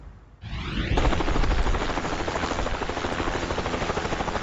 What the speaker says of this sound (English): We're in a helicopter over Mesa heading toward Four Peaks